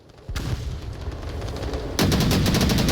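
Sustained automatic gunfire in a VR shooter game, likely from an AK rifle, rattles out as a dense stream of shots. It grows noticeably louder and closer partway through, with no talking.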